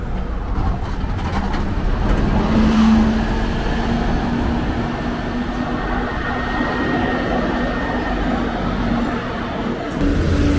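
A Neobus Mega BRT articulated bus on a Mercedes-Benz O500MA chassis pulls in along Avenida Paraná near the bus station in Belo Horizonte, its loud engine rumble and road noise holding steady throughout.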